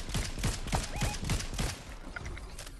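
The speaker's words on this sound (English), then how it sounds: "They're shooting from over there." Rapid gunfire from a DMR rifle in Fortnite, a quick run of about eight sharp, evenly spaced shots for over a second, then quieter game noise and faint distant pops.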